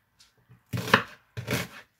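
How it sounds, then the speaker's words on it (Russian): A knife chops onion on a board for manti in a village kitchen, two firm, close cuts with a few faint taps before them and no talk. "Лук режу я на манты прям крупненько."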